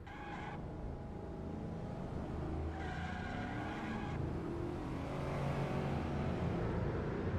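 Race car spinning out in a Spec P71 sim racing event at Streets of Willow, with tire squeal and skidding over a continuous engine drone, two squealing bursts, heard at a distance.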